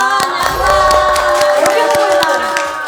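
Studio audience applause and cheering at a Korean variety show as actors are introduced, a steady crowd roar with scattered sharp claps, loud and close, mixed with people talking.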